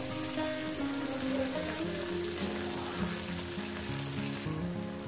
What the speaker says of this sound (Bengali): এটাও আমি সুন্দর করে ভেজে নেব